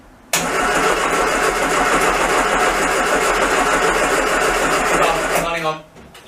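A classic Mini van engine being restored cranks continuously for about five seconds, loud and close, with the starter churning steadily before cutting out without the engine catching.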